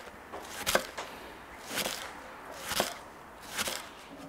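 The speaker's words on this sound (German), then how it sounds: "Ja und dann schneiden wir uns hier einfach so ein paar dickere Halbringe raus." A knife cuts a leek into thick half rings on a board, giving four separate crisp chops at an even, unhurried pace, close and fairly quiet.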